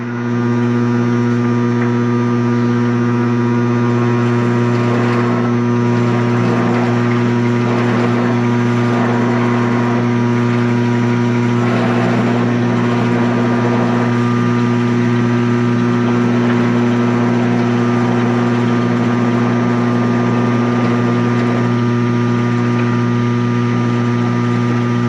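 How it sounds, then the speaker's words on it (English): A lathe driven by a DC motor on a speed controller spins with a steady, loud drone and a strong, constant hum. It holds nearly unchanged throughout, close by, with no talk over it. "So I spin up the lathe, and I want to make it look like that when I'm done."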